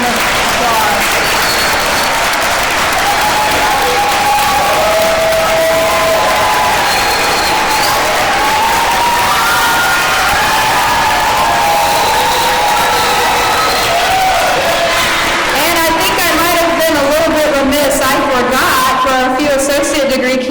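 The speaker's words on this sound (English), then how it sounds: "Let's give everyone a big round of applause." An audience at a graduation ceremony breaks into loud, sustained applause that fills the room for about twenty seconds, with scattered cheers and whoops rising toward the end.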